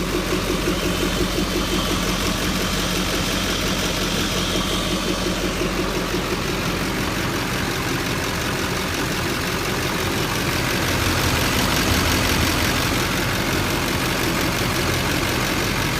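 A 2006 Chevy Silverado with the LBZ Duramax diesel and an aftermarket airbox idles steadily, a smooth and even low rumble with diesel clatter that holds constant throughout, recorded close to the engine.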